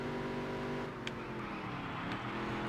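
Race car engine in the NASCAR Dirt to Daytona video game, a quiet steady drone with a sustained whine, plus a couple of brief sharp clicks, and no voices.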